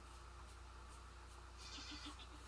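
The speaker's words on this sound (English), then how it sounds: "Hello, goats." Goats in the video game Vintage Story give a few short, faint bleats over a steady low game hum, arriving in a quick cluster near the end.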